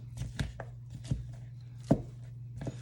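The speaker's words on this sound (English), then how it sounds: "Start chopping up my chicken breast." A knife chops chicken breast on a cutting board with a few sharp, separated knocks spaced unevenly, close and fairly quiet over a steady low background hum.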